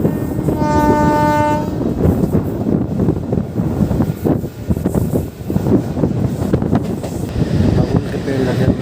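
Intercity Express train 14102 running between Kanpur Central and Prayagraj Sangam sounds a long, steady horn blast near the start, over a continuous loud rumble and rattle of the moving train.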